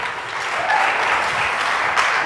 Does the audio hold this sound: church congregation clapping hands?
yes